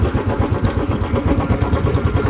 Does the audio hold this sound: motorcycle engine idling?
yes